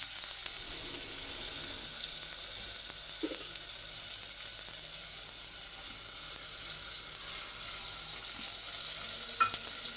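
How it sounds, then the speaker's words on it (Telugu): Ginger garlic paste frying with tomatoes in a pan for prawn pulao, a continuous even sizzle throughout with only faint scattered clicks, no speech. "అల్లం వెల్లుల్లి పేస్ట్ కూడా కొంచెం పచ్చివాసన పోయేంత వరకు వేసుకోవాలి"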